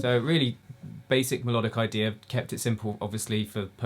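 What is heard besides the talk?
No everyday noises stand out.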